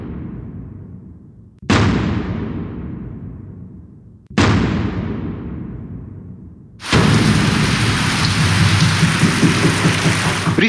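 Heavy continuous rain falls in North Bengal, arriving as a loud, dense steady hiss in the final few seconds, after two deep booming thunder-like impacts that each fade slowly into quiet.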